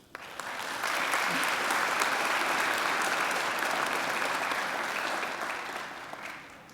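A graduation ceremony audience breaks into applause after an occasional address, rising quickly from a first few claps to a full, sustained round that tapers off near the end.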